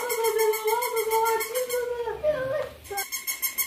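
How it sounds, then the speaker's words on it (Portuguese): A dog gives a run of high, wavering whimpers and howl-like whines, close and clear, broken by a short pause before it resumes. "a Paloma querendo comer o cachorro"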